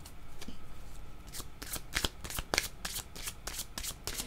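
Playing cards are drawn and flicked from a deck at close range, a series of quick papery riffles and snaps in an uneven rhythm against a quiet background.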